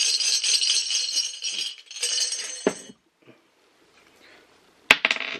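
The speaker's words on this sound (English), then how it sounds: "So let's grab some dice." Dice shaken in a hand and tossed for a Hot Wheels raffle, a steady rattling clatter for a few seconds, a pause, then a sharp tumble and brief bouncing clicks, close and alone with no talk.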